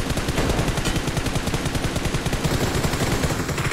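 Rapid automatic gunfire in PUBG Mobile, a steady, loud burst of evenly spaced shots running throughout with no pauses.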